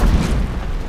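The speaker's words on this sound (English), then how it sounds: "He's got a built-in cannon." A Barsboldia's built-in cannon fires in the video game Ark, a single loud, deep boom that fills the second and slowly fades.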